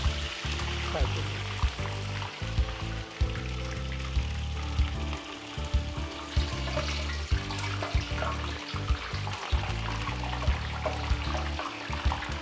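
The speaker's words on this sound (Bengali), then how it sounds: "মাছটা আমরা সুন্দর করে ফ্রাই করব" Red snapper fries in hot oil after marinating, a steady dense sizzle with crackling pops running throughout, with low-pitched background rumble beneath.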